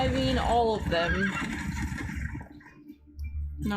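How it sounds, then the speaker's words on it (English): Loud horse whinnies and neighs from the Witcher 3 video game, with clip-clop hoof sounds beneath, fading out toward the end while people talk over the noise. "Calm the horses."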